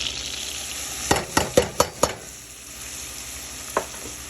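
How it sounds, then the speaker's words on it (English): Diced onion dropped into three tablespoons of melted grass-fed butter, giving a run of five sharp sizzling bursts close by, then a quieter steady frying hiss with one last burst near the end. "Now melting 3 tablespoons of Cherry Gold grass-fed butter. And I'm going to add the onions to that."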